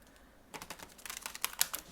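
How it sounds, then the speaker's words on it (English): Deck of tarot cards being shuffled, quiet at first, then a rapid run of soft riffling clicks and flutters close by, with no talking. "Let's shuffle them some more."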